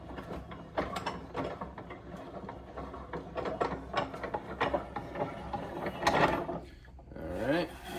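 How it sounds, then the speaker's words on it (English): A waist clamp on a guitar side-bending form is unscrewed, with a string of close ratcheting, clicking and squeaky metal turns in uneven bursts, alone without talk. "And then I unscrew the waist clamp."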